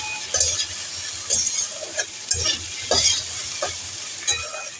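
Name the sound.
stirring shrimp and kochur loti frying in a pan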